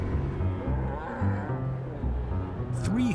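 Cattle moo repeatedly, loud and close, during a ranch drive of about 300 head moved by cowboys and herding dogs. Low, drawn-out calls overlap one another against a busy herd background.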